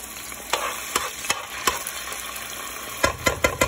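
Minced garlic frying in lard in a pan for pupusa chicharrón, a steady sizzle with repeated scraping stirs and spoon clacks, close and fairly loud, no talking.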